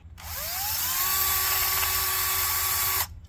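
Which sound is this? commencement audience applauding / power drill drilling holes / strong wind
power drill drilling holes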